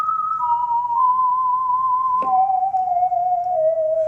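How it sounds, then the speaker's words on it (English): A sustained, whistle-like tone from a heavily modulated whistle sample holds steady, then jumps to a lower pitch after a brief click and slowly sinks, with a faint wobble throughout. "you can hear that I'm quite a long way from the original whistle"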